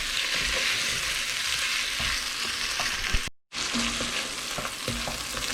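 Sausage browning and being stirred in a pot for chicken and sausage gumbo, a steady broadband sizzle with occasional scraping knocks, broken by a brief dropout partway through, no talking.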